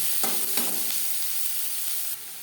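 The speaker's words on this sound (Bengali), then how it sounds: "দিয়ে দেবো পেঁয়াজ কুচি" Three chopped onions dropped into hot oil in a wok after frying puti fish, a soft continuous sizzle close by, with two quick stirring knocks near the start, no talking.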